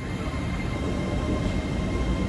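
A train rolls steadily along the rails in London, a continuous loud rumble with constant rattling and hiss, no voices.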